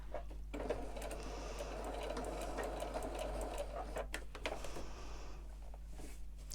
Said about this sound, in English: Doing a locking stitch and cutting my thread so I don't quilt over the little green ribbon that's there.